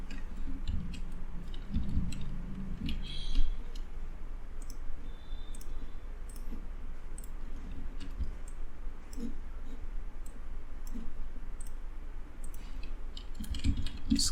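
Steady clicking of text being typed on a computer keyboard, light irregular taps spread across the whole stretch, close and moderately loud with no talk.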